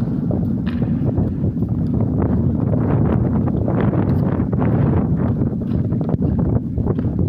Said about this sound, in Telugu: గాలి అయితే భయంకరంగా తోలుతుంది